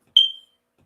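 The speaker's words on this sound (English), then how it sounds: "Sorry about the beep" A single short smoke alarm chirp sounds indoors, loud and sharp, then fades to silence.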